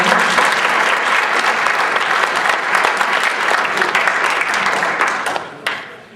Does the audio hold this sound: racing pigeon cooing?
no